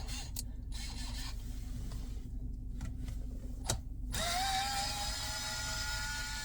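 Faint mechanical whirring and a few small clicks from a screwdriver or tool as a BMW G30 5 Series CarPlay unit is being undone, quiet and close, with a steadier hum rising near the end.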